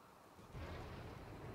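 A thunderstorm in the video game RimWorld: a faint, distant low rumble swells in after a short, quieter moment and rolls on to the end.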